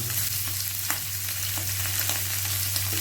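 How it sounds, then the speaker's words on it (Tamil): Sardines fry in hot oil in a kadai, giving a steady, close, dense sizzle with small crackles and pops throughout and no talking. "ஃபிஷ்ஷை வந்து ஒன்று ஒன்றா போட்டுக்கலாம். நல்லா மத்தி ஃப்ரை கம கமன்னு."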